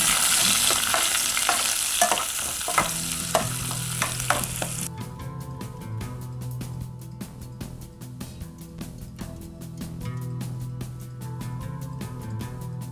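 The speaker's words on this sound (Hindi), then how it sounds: "हमने यहाँ सबसे पहले कड़ी पत्ता डाला, प्याज डाली और अब हम इनको करेंगे फ्राई" Curry leaves and onion frying in hot oil for pakodas and chana chaat, a bright continuous sizzle that first hisses loudly, then crackles with rapid spatters while a spoon stirs, close and without talk.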